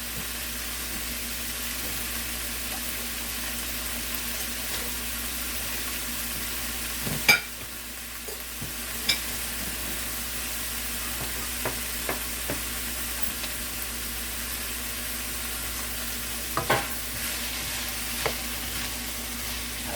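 Bell peppers sizzle and fry steadily in a wok over lowered heat, a continuous close crackle with a few sharp scrapes and clinks of stirring scattered through.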